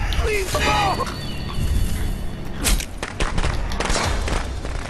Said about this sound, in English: Firecrackers, for whatever reason, seems to stun Jason.